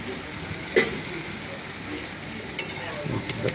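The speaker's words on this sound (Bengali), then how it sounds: "ঢাকনাটা উঠে একটু লাড়াছাড়া দিতে হবে" Fish and vegetables frying in a pan are stirred, giving a low steady sizzle with a few sharp clinks and scrapes, close by.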